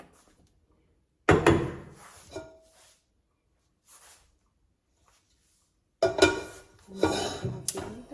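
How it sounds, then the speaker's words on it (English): A tall cooking pot is handled in a home kitchen while a little olive oil goes in for meatballs. Two loud bursts of metallic clanking and scraping come up close, separated by a quiet gap with one faint knock. "All right, so now I have a tall pot, nice and tall."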